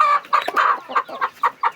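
Thai fighting chickens from Chonburi clucking close and loud, with a run of about seven sharp, bright clucks in uneven rhythm and no talking.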